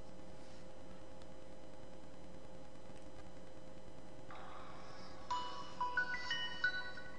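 A phone line rings faintly through a computer, first a quiet tone, then a brighter ringtone with a few short trilling bursts over a steady hum and hiss.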